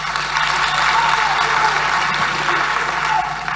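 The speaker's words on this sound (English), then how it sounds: "Now I see the balance between the men and the women clapping." Men and women in a crowd clap together in a dense, steady wash of applause that holds for the whole stretch, fairly loud and continuous with no clear talking over it.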